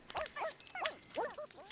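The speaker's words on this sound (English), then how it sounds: "Hey, learn how to bark." A dog in The Sims 2 life-simulation game barks four or five times in quick succession, short clear yips fairly close and alone.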